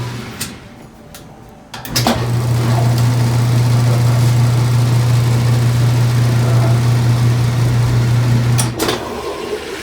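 A Whirlpool washing machine, just repaired with a new motor coupler after overloading, runs in spin mode with a steady loud motor hum that starts abruptly and holds evenly before dropping off near the end.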